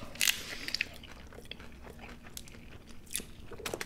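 Taco Bell crunchy tacos, slightly soggy, are bitten and chewed up close: a sharp crunching bite at the start, then quieter intermittent crunches and chewing sounds, with no talking.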